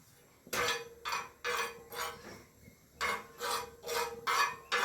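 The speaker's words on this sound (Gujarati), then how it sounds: "તમારે લગાતાર એની અંદર ચમચીથી હલાવતું રહેવાનું એટલે ચોટી ના જાય" Metal spoon scraping and clinking in a pan of fennel seeds being dry-roasted until dark, in repeated bursts of rough stirring separated by brief pauses, fairly close with no talking.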